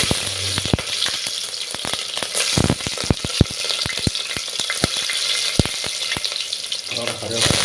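Green chillies, cinnamon, cloves and cardamom fry in hot oil in a pan, a loud, busy sizzle broken by frequent sharp clicks and taps of stirring, with no talking.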